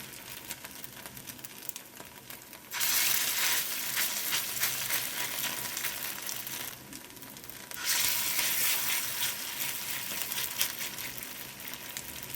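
Pieces of tiffin frying in oil on a stove at medium flame give a steady crackling sizzle, surging louder when fresh pieces hit the pan around three and eight seconds, then settling to a busy hiss.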